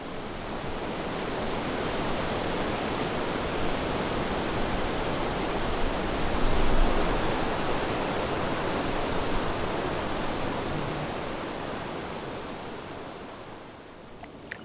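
A river rapid on the upper Black River in the Haliburton Highlands roars in a dense, continuous rush of white water, loud and close, holding steady for the whole stretch with no talking.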